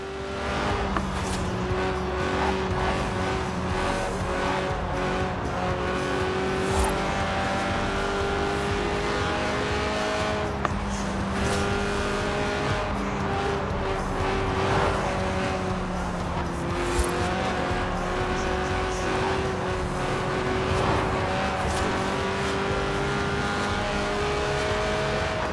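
A high-revving 1.8-litre, 190-horsepower car engine in Forza Horizon 4 screams continuously up to 8,000 RPM, its pitch rising and falling through gear changes, loud and close with occasional tire noise.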